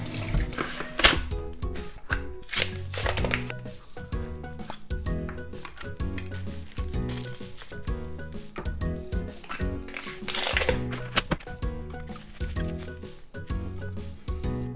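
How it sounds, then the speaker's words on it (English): Running water from a kitchen tap splashes as something is rinsed while making mochi ice cream at home, with intermittent clinks and rhythmic splashing throughout, close and moderately loud. "So I'm gonna wash this for a second."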